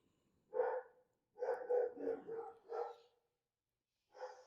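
A dog barks indoors in short bursts, a single woof followed by a rapid cluster of barks and then another pair, fairly close but not loud, with quiet gaps between.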